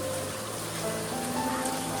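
Monsoon rain falls in a Konkan village, a steady close hiss of drops on surfaces with no pause and no voices.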